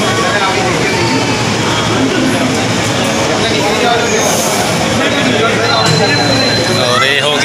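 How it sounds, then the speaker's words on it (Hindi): An Ahmedabad metro train sits at Thaltej station under a loud, steady rumble, with crowd murmur and voices throughout and a high electronic tone near the end. "तो दोस्तों ये आ चुकी है अपनी मेट्रो"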